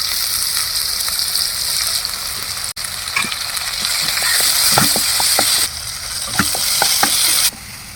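Onion, capsicum and tomato fry in a pan for dosa masala with a steady, loud sizzle, broken by scattered spatula scrapes and stirring clacks, with no voices.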